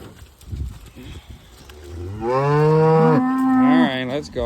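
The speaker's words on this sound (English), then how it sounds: "Nice cow." A cow on a cattle farm lets out a long, loud, close moo that rises and holds before trailing off, with some faint rustling before it.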